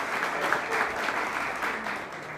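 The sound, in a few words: audience applause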